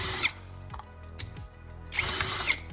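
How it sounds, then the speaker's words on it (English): Two short bursts of a power drill whine through a metal lid resting on a wooden surface, loud and close, separated by a quieter stretch of faint clicks and handling noise. "Place the lid on a wooden surface and drill a hole in the center."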